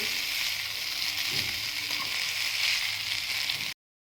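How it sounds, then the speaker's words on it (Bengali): Miniature pasta being stirred in a small pan on a mini gas stove, giving a steady, close hiss of frying that cuts off abruptly near the end. "এবার আমি একটু নেড়ে নেব"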